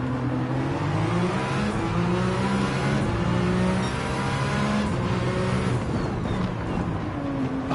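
A car engine in Gran Turismo 7 revs and drops through downshifts as its pitch rises and falls. The engine drone stays steady and fairly loud throughout, with no talking.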